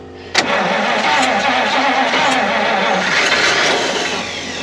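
A Pontiac straight-eight in a 6-volt car, sitting unused for 51 years, catches with a sharp bang and then runs at a rough, loud idle close by, settling slightly toward the end.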